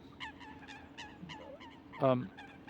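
Waterbirds calling on a canal, a series of short honking calls repeating at a steady pace, followed by one louder, harsher honk near the end, over a faint background.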